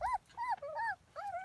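Australian Shepherd puppies whimper and yip in short, high, whiny cries, three bursts close to the microphone with brief gaps between them, and no talking.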